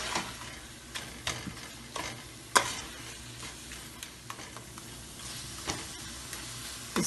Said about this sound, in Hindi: बस 2 मिनट भूनेंगे इसको। चूल्हा तेज कर देते हैं।